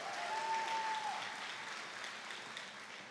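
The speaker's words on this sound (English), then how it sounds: "clap for education, absolutely" An audience claps at a speech on education and training for the new economy, a steady wash of applause over about three seconds that gradually thins, with a brief whistle near the start.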